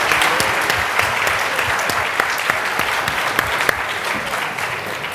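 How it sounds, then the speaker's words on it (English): A large audience applauds continuously, dense clapping at an even, loud level throughout, with a few sharper claps standing out. "another round of applause for our panel here."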